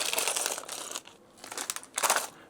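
Plastic bag crinkling as a Mattel Brick Shop building set is unboxed, a few close rustling bursts with short quieter gaps between them, no talking.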